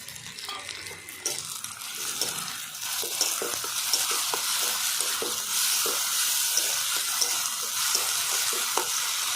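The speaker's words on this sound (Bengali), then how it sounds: "ভালো করে কষিয়ে নেবো 2 থেকে 3 মিনিট" Ground ginger, garlic, green chili and cumin paste frying in a pan for a papaya chicken curry, a continuous close sizzle with a regular series of spoon taps and scrapes from stirring, and no voices.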